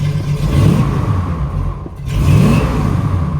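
A restored 1966 Chevy II Nova SS with a 327 V8 revs twice from idle, each throttle blip swelling loud and close then falling back to a rumbling idle.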